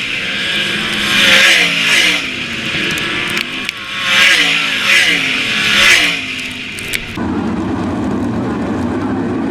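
All Star sprint cars race through a heat at Attica Raceway Park, their loud engines rising and falling in repeated passes as the pack roars by, with a race announcer's voice over the noise.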